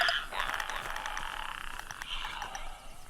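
Clicker infected creatures from The Last of Us make rasping, croaking clicks and throaty rattles, a faint eerie ambient texture with brief gurgling bursts.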